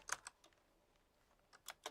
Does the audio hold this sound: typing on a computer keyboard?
yes